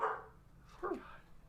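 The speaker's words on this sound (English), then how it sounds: "The doggy. The doggy." A dog gives a single short bark, fairly close, with a brief higher yelp at the start, in a quiet room with faint background noise.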